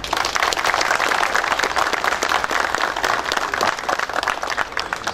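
Sustained applause from an audience at a Bosnian community gathering, dense and steady clapping throughout, loud and close with no talk over it.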